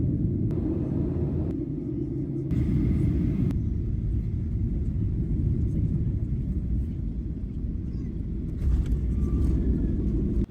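Steady low engine rumble inside a passenger airplane flying to Sydney, a continuous cabin drone throughout with brief brighter bursts, and faint voices underneath.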